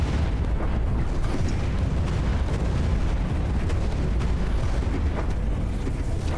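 Torpedo explosions in the space strategy game Stellaris merge into a continuous roar of dull booms and crackling bursts, steady and unbroken throughout.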